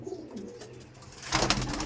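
Madrasi pigeons in a loft give soft, low cooing, faint at first, then swelling into a louder burst near the end, with no voices.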